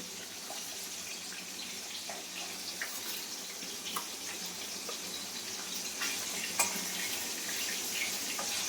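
Hilsa fish pieces fry in hot oil, giving a steady close hiss and sizzle with scattered small pops throughout.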